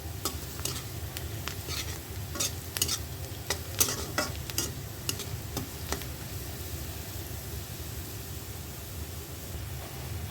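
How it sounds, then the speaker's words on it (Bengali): Onions fry and brown in a pan with a steady, close sizzle, broken by occasional scrapes and clinks of stirring, running continuously without any voices. "পেঁয়াজটা আর একটু ব্রাউন কালার করবো"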